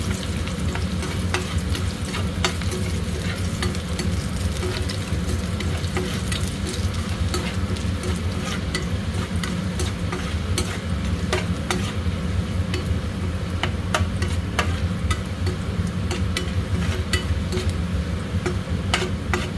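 Garlic slivers frying in hot oil in a pan while being stirred, a continuous dense sizzle with scattered crackles and spatula scrapes, close and steady throughout with no talking.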